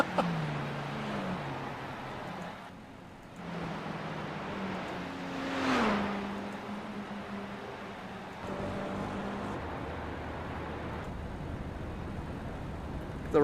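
Four-cylinder mini stock race car engines in iRacing droning under caution, a steady mid-level hum with pitch shifts and one brief louder swell as a car passes.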